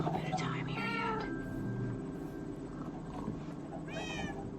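A pet cat meows several times at close range, with short calls early on and a clear meow near the end, over a quiet indoor background hum.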